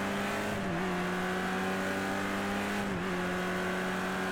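A car doing donuts in the racing game Project Cars 2, with a loud, continuous engine drone whose pitch dips twice as the car swings round, without any talk.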